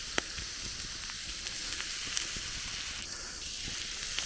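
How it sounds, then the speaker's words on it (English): A steak sizzles on a hot rock at a campsite on the Lake Huron shore, a steady bright crackling hiss with scattered small pops, close and fairly quiet. "Still sizzling"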